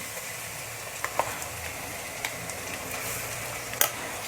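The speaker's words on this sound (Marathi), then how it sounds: "हे बघा आता अद्रक लसण छान रीतीने फ्राय झालेले" Ginger-garlic paste fries with onion in a pan, giving a quiet, continuous sizzle with a few soft crackles and pops scattered through it and no voices.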